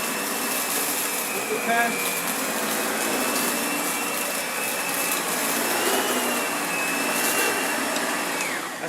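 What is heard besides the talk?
HEPA vacuum cleaner running with suction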